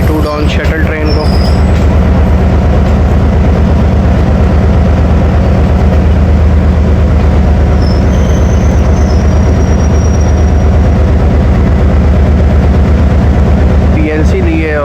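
A 2 Down Shuttle passenger train stands halted on the main line at Pakhowal station, with a loud steady low rumble of the idling locomotive engine throughout and a faint squeal at the start.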